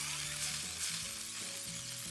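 Salmon frying in a pan, a steady dense sizzle held throughout with light clinks and stirring noises, close and alone with no talking.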